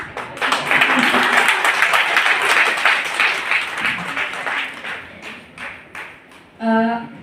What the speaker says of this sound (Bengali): তালি বাজানোর যখন কথা হয় তখন একটু জোরেই তালিটা বাজাবেন